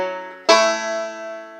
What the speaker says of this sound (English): And then I'm going to pinch the open 3rd string and 1st string for the beat 1 of measure 2.